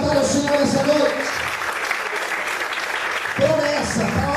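A church congregation claps steadily for several seconds, the applause filling the space between bursts of a preacher's voice at the start and end.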